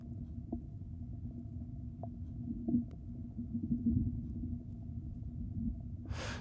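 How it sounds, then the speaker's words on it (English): Waterfall water rumbling onto the ground, picked up underwater by a LOM hydrophone: a faint, steady low rumble with a constant hum, occasional soft droplet ticks and a brief hiss at the end. "water rumbling"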